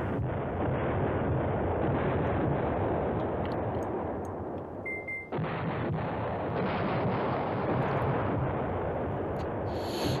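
Continuous rumbling artillery fire and distant explosions from the war strategy game Command Ops 2, a dense, steady roar with a brief dip midway and no talking.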